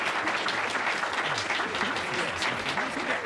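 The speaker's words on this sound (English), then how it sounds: "the rousing cheer that he knows you're going to give him for his performance" Audience applause and cheering for the rector's performance fill the room in a dense, steady wash of clapping that lasts throughout.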